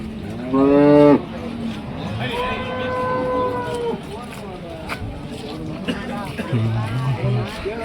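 Cows mooing at a busy open-air cattle market in Ranebennur, Karnataka, with several long, loud lowing calls rising over a steady murmur of people talking nearby.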